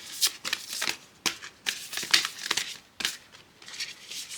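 Oracle cards being shuffled by hand during a tarot reading, a close run of crisp riffling bursts with short pauses between them, with no voices.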